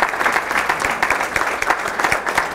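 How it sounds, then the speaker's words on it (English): A crowd at a tourism business event applauds the Visit Huntington Beach visitor bureau staff, producing a loud, close, sustained patter of many hands with no speech over it. "Give these people a big round of applause."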